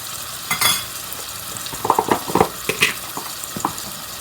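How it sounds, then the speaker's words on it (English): A spoon stirring basil into thick lentil porridge in a pot, soft scraping and squelching with a few light knocks against the pot's side, close and moderately loud, with a faint simmer underneath. "I'll stir that in nicely."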